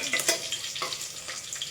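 Tomato pieces frying in hot oil in a pan, a steady bright sizzle with a few soft stirring scrapes, close and continuous.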